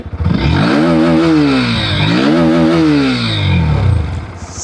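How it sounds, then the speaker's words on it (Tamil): A Bajaj Pulsar NS160 160cc motorcycle engine fires up and revs twice, the exhaust note rising and falling in a deep, rumbling burble, loud and close. "இந்த பைக்கோட எக்ஸாஸ்ட் நோட் கேட்கணும்"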